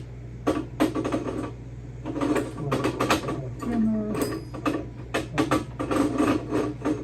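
Parts of a 1 hp Meat Your Maker meat grinder, metal, being turned by hand to line up its gears, giving quick irregular clicks and clunks over a low steady hum, close by.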